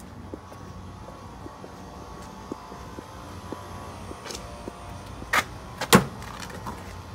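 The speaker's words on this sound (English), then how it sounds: "close all the door panels." Door panels on a large McQuay AC unit are shut, giving scattered faint metallic taps and thuds and then two sharper bangs near the end, over a steady low mechanical hum.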